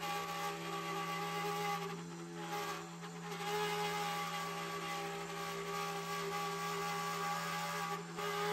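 A Genmitsu 4030 CNC router cuts half-inch red oak with a steady, continuous high-pitched spindle whine and machining hum, faint and constant throughout with slight dips, and no talking.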